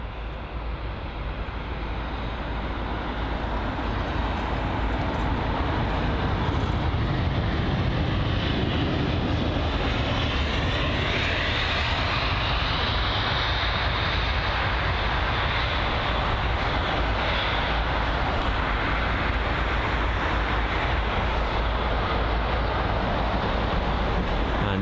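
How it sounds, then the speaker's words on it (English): A BA jet airliner arrives at London Heathrow with a loud, continuous roar of jet engines that swells and holds steady throughout, heard from outdoors near the runway. "once again another BA jet for arrival"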